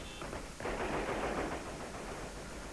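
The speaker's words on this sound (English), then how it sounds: "the streets still echo to the sound of gunfire" Gunfire rattles through the streets of Kuwait City in 1991, just after liberation. It is faint, distant and continuous, like sustained automatic bursts echoing between buildings.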